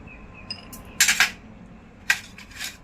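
Cashews dropped into a pot of basundi, a few light clinks and rattles in two small bursts against the metal pot, close and otherwise quiet.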